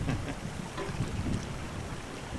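Wind gusting across open water on Clear Lake while perch fishing from a boat, a steady low rushing buffet against the microphone with no talking.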